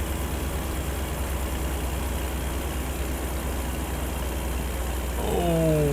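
A truck engine in American Truck Simulator drones steadily at idle-like revs, loud and continuous, with the pitch rising near the end as the engine note shifts.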